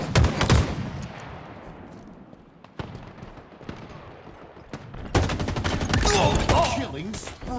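Gunfire in the video game Halo Infinite, with loud bursts of rapid automatic fire at the start and again in a long dense volley near the end, separated by quieter stretches with scattered shots.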